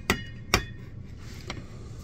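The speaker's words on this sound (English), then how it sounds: "Then I took the back of the claw hammer, gave it a couple smacks." The back of a claw hammer strikes heated aluminum heat sink pieces, two sharp close metallic smacks in quick succession and a fainter third hit, with a quiet hum between.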